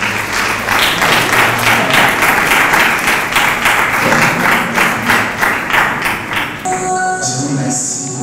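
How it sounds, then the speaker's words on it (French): Audience applause for Patrick Chanda at a film presentation, steady loud clapping with rhythmic beats, fading near the end into music-like tones and voices. "On applaudit pour le frère Patrick Chanda."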